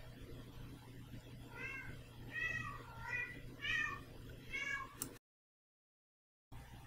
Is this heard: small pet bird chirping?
no